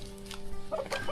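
A chicken kept at home for a family celebration gives a few short, nasal clucks in quick succession, close by over a steady background hum.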